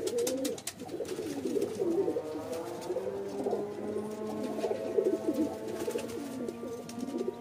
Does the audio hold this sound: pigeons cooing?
yes